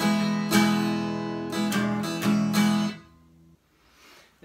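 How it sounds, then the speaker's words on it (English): Taylor GS Mini acoustic guitar played with a few close strums that ring together, then fade into near silence. "a Taylor GS Mini."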